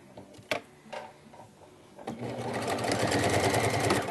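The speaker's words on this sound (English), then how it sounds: "we're just going to sew these two pieces together straight across" A sewing machine starts up after a few clicks and handling knocks, then whirs in a steady rapid hum as it runs a straight stitch across binding fabric, close and fairly loud.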